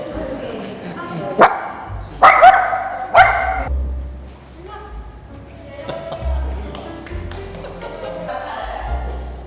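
Dogs at a daycare playground let out a few sharp, close barks in quick bursts, then softer yips and whimpers, while people talk nearby.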